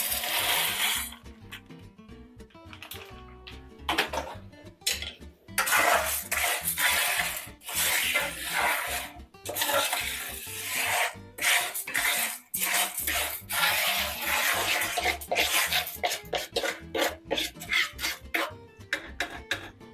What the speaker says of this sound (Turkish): Hemen arpa şehriyeyi ekleyip sürekli karıştırıyorum